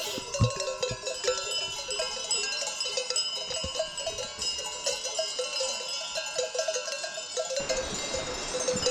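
Dense, continuous clanking of many sheep bells from a grazing flock in the Carpathian hills, ringing in an irregular overlapping jangle that shifts in tone near the end.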